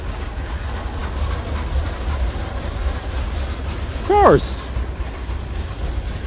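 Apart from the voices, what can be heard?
train passing on railway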